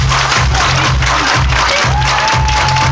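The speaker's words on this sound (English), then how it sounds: "Everybody clap your hands." A crowd at a lively dance event claps in steady unison to a booming beat, the rhythmic hand claps loud and close over pounding bass and music.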